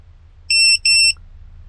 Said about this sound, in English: it's beeping very loud. Right now you can hear the volume is much more than it was a minute ago